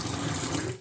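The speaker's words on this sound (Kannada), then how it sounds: "ಕೈ ತೊಳೆಯಲಿಕ್ಕೆ ಈ ಥರ ನೀರು ಇಡ್ಬೋದು." Tap water runs steadily from a kitchen faucet for hand washing, a continuous close splashing stream filling the whole moment with no voices.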